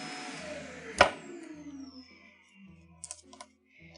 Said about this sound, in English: we can tape down the rest of our wires